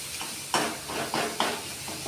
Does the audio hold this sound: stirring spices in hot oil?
yes